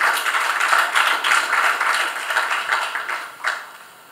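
A seated audience at a talk on diplomacy applauds, a steady wash of many hands clapping that holds evenly for several seconds before tapering off.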